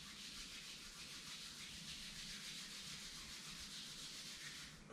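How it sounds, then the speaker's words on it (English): Palms rub together briskly during a yoga session, producing a soft, continuous dry swishing that stays steady for the whole stretch, quiet and alone. "Rub your palms."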